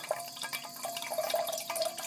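Water is poured into a stainless steel cup outdoors on an overnight trail trip, making a faint, continuous trickle with light metallic splashing.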